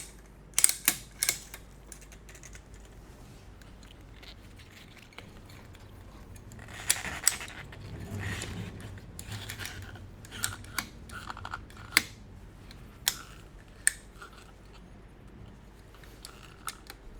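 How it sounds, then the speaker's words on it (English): A ratchet strap on a slingshot extender kit is cranked tight in a series of sharp, separate mechanical clicks, spaced irregularly and fairly close, with soft handling noise between them. "So we'll ratchet it up."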